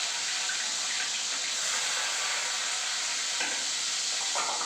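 Steady, loud sizzling and crackling of chopped onions frying in hot oil, a dense hiss with occasional soft stirring sounds, no talking.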